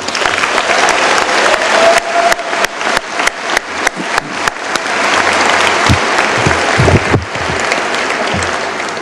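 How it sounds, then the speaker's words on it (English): A high school graduation audience applauds the students with sustained, dense clapping, punctuated by sharp, distinct individual claps near the microphone, and it briefly thins before swelling again. "Let's give another round of applause for those students."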